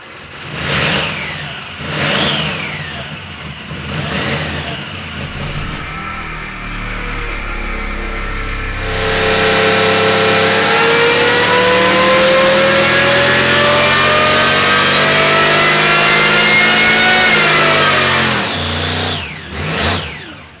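A supercharged 350 small-block Chevy V8 on a dyno gives a few short revs, then a loud sustained pull whose pitch climbs steadily toward 6,500 RPM for about nine seconds before dropping off, with no talking.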